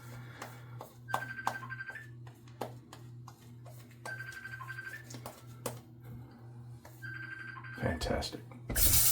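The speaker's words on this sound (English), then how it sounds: "I really need to remember to silence my work phone." A work phone rings in repeated bursts of electronic tones at a moderate distance, under steady background talk and a low hum, with a louder clatter at the very end.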